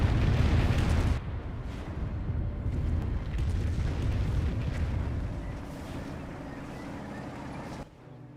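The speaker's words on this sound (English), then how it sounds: "We've got another Calliope rocket barrage." Calliope rocket barrage in Company of Heroes, a loud, dense rumbling wash of explosions that stays strong for several seconds, heaviest at the start, then fades before cutting off.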